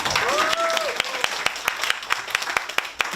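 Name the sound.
audience applause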